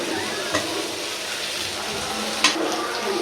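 Steady frying sizzle of a ginger spice paste in hot oil, with a couple of brief clinks from stirring.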